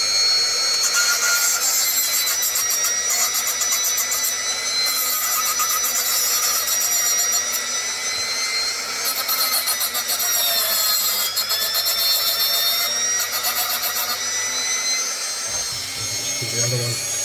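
Steady, loud whirring grind of a small rotary tool wearing down a coupling hook on an old Hornby model railway coach, a high, continuous buzz that holds for the whole stretch with slight changes in pitch.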